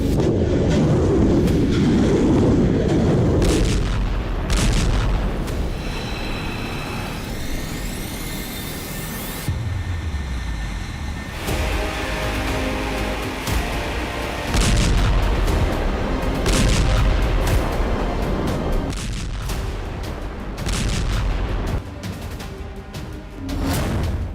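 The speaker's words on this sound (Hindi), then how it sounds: "उड़ा दिया बेरूत एयरपोर्ट।" Explosions from the bombing of Beirut airport, heard as several loud, deep booms and crackling blasts in separate bursts, with rumbling and sweeping whooshing noise between them.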